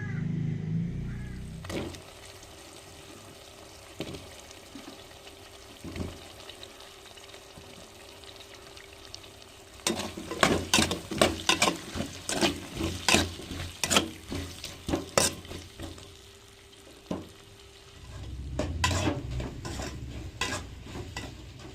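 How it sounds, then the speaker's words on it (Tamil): Oil sizzles steadily in a pan while a utensil clatters and scrapes in quick bursts, stirring frying potato and eggplant up close. "உருளைக்கிழங்கு கத்திரிக்காய் எண்ணெயிலே வதங்கிருச்சு"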